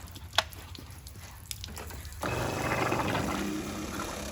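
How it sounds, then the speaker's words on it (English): A 12-volt water pump runs with an air leak in its line, starting abruptly partway through as a steady close-up whirring hum with gurgling, bubbly water noise after a quieter stretch of small clicks and knocks. "Now, let's listen to the pump."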